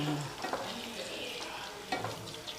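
Stuffed brinjal masala is stirred and turned in a pan with a soft, close sizzle broken by scraping strokes of the spoon, faint and without speech.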